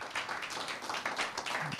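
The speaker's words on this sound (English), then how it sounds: "A round of applause for these gentlemen." Brief burst of audience clapping after a talk at an open-source geospatial conference, a dense patter of hands heard from a little distance, fairly quiet and alone.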